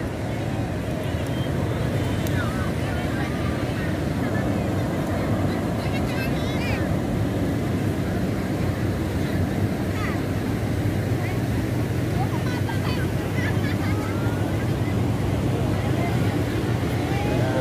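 Steady wind roar and rolling surf at Parangtritis Beach, Indonesia, fill the scene continuously, with faint distant voices and a few high chirps scattered through.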